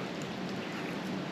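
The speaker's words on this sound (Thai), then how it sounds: "บรรยากาศก็ดีครับฝนตก" Steady rain falls outdoors in rural Thailand, a dense, even hiss of drops on surfaces with no break, moderately loud and close, with no voices.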